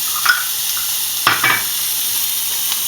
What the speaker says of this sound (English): we're going to add your onion and your garlic